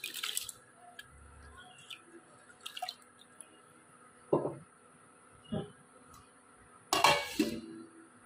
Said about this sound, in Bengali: এবার আমি চালটা দিয়ে দিচ্ছি